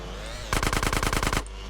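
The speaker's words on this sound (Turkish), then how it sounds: "Bende de uzi var tararız." Short burst of Uzi fire in GTA San Andreas, about a dozen rapid evenly spaced shots lasting under a second, loud and close, with a brief hush before and after.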